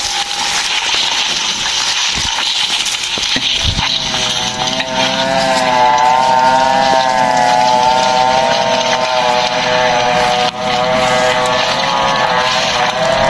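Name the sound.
engine of a wood-cutting machine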